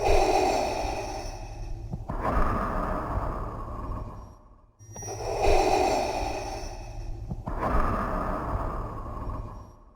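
Someone breathes heavily in two long cycles, each a loud airy inhale-exhale lasting a couple of seconds, close and rhythmic, with brief quiet gaps between.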